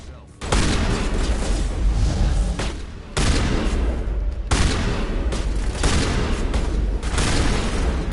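Shotgun fire in Mass Effect 2 lands as heavy, booming blasts, each followed by sustained loud combat noise. Several big hits are spread across the stretch at close range.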